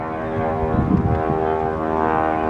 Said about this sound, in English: starting a Continental 7-cylinder engine